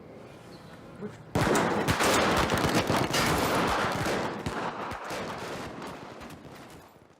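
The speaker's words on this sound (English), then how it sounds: "the soldiers behind them open fire, instantly gunning down the entire squad." Soldiers in a Romanian New Wave film open fire: after a quiet moment, a loud, dense volley of rifle and machine-gun shots erupts abruptly and continues for several seconds, fading slightly toward the end.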